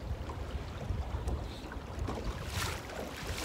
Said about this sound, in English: That wind's getting you.